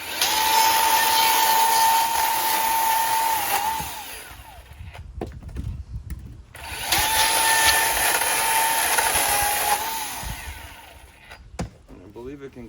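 A battery-powered Milwaukee M18 14-inch top handle chainsaw cuts through small branches, giving two sustained high-pitched motor whines separated by a quieter pause, close and loud.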